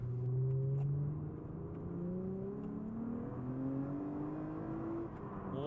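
Supercharged Lexus drift car accelerating, its engine note climbing steadily in pitch through a smooth, continuous pull at moderate loudness, heard from inside without talking.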